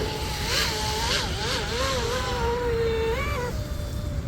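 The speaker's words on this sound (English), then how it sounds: "I'm running a small prop today and we are running a 1250 kV motor." A small radio-controlled boat powered by a 1250 kV electric motor turning a small propeller runs steadily on the water, its high motor whine shifting in pitch as it speeds up and eases off, under constant water and wind noise.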